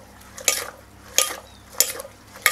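Blanched Sesbania leaves stirred in a pot for a spicy Thai-Lao salad, four distinct scraping, clattering strokes spaced roughly evenly, close and moderately loud with no talking.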